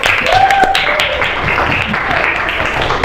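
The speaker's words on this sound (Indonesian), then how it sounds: "Beri tepuk tangan buat Velita." Children in a classroom applaud a classmate, a continuous loud patter of clapping with high young voices and a whistle-like tone mixed in under the claps.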